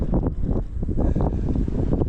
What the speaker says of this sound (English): It's a very windy, yucky day.